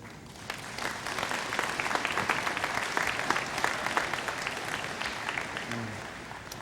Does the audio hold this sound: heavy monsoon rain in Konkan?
no